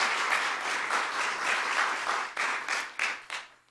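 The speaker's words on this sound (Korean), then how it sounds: "여러분 다시 한번 박수 한번 쳐주시죠" Applause from a church congregation at a Sunday morning worship service, a dense wash of many hands clapping that thins into a few distinct claps near the end.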